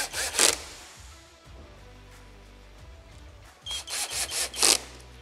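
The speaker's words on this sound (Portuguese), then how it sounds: "agora eu venho com a parafusadeira para dar o aperto final" A power screwdriver tightens screws on the handle of a WAP WL 1820 pressure washer: two short, close whirring bursts separated by a quieter pause.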